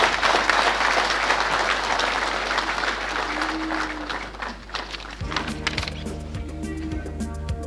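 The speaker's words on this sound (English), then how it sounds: "Please help me with a loud applause" An audience at an evening awards and recognition ceremony applauds loudly and continuously for several seconds as an honoree is welcomed to the podium. The clapping fades, then footsteps and room noise follow.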